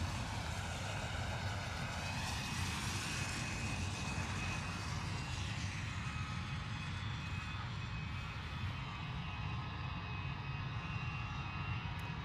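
An Airbus A320 airliner comes in to land through fog at London Luton Airport, a continuous loud roar of engines with a broad rushing whine that slowly shifts pitch as it passes, with no talk.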